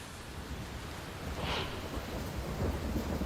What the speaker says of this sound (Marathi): मोठ्या प्रमाणात रस्त्यांवर पाणी साचलेलं आहे